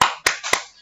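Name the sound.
rhythmic clapping greeting by kindergarten teachers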